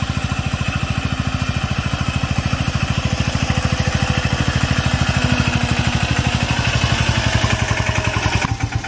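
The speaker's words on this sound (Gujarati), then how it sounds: "આ ઝીંકા ટ્રેક્ટરથી આપણે વાવીએ છીએ મિની ટ્રેક્ટર" A mini tractor sowing groundnuts chugs loudly and steadily with a fast, even rhythmic thumping, close by and without speech.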